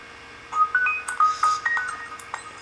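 A phone ringtone plays a chirpy run of short, bright electronic tones and trills in an uneven melodic pattern, close and fairly loud over a low, steady background hum.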